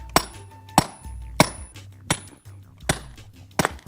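A stone chisel held in a prosthetic grip device is hit hard six times at a fairly even pace. Each strike is a sharp, close metallic clang with a short ringing decay, and nobody speaks.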